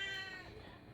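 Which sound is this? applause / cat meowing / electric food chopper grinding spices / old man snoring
cat meowing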